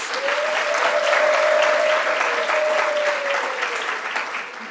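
Applause fills a hall at a University of South Africa spring graduation ceremony, a sustained, even wash of many hands clapping for nearly five seconds, with a steady tone sounding underneath.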